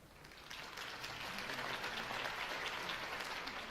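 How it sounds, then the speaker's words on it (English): Crowd applause in the Batman Telltale video game, a steady wash of many hands clapping that swells slightly and holds, heard fairly distant and without speech. "could have heard that applause"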